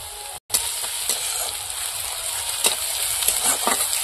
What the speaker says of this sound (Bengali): পেঁয়াজের কুচি, পেঁয়াজটা একটু হালকা করে ভেজে নেবো। রসুন থেতো দিয়ে দেবো।